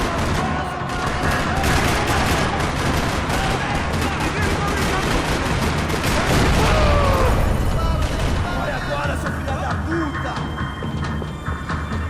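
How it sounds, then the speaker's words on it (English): Gunfire rattling across a parking lot in the video game Max Payne 3, set in São Paulo. Rapid bursts of automatic fire and single shots crack continuously, loud and close, with echoing booms and a low hum beneath. "Another parking lot rattling with gunfire."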